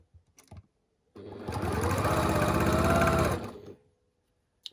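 A sewing machine stitches quilt block triangles in one continuous run of rapid, even needle chatter lasting a couple of seconds, framed by faint handling sounds before and after.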